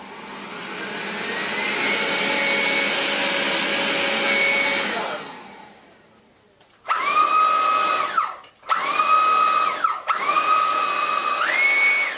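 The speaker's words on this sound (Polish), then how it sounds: "Czym większą siłę sania ustawimy, tym głośniej odkurzacz pracuje." A Midea M7 Pro robot vacuum cleaner runs at high suction with a loud whirring motor drone, fades out, then restarts in short bursts with rising and falling whine between brief pauses.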